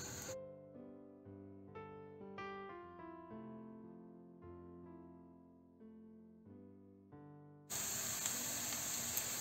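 Onions hit hot oil in a pan and burst into a loud, bright sizzle that holds steady for the final two seconds, after a stretch of soft melodic music.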